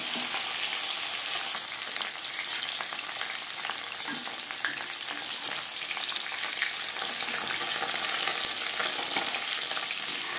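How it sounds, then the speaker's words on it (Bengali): Fish frying in a pan for a Bangladeshi-style fish curry, giving a steady, dense sizzle with crackles and occasional stirring scrapes throughout, close and continuous with no talking. "আমি মাছ দিয়ে ফ্রাই করছি"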